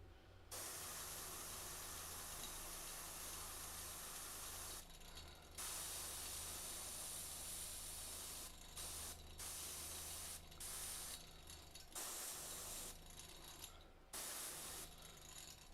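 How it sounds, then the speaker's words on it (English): An airbrush sprays paint onto a miniature figure in loud, steady bursts of hiss broken by short pauses, recorded close up. No voices are heard. "the air from the airbrush is gonna push the shade"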